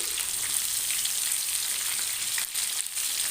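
Ridge gourd fries in hot oil in a pan, a dense, even sizzle held close throughout with a couple of brief dips.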